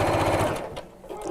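A sewing machine stitches a drawstring pouch channel close to the fabric edge, a fast close whirring run that stops partway, leaving quiet room sound.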